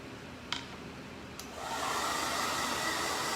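A hair dryer blows on small fabric pieces, switching on after two faint clicks and then running as a close, steady whooshing roar with no talk.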